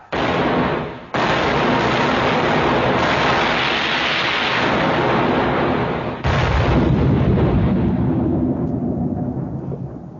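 A ship's cannon fires in a naval setting with heavy, booming blasts. Two sustained roaring discharges follow one another and fill the air before rumbling away.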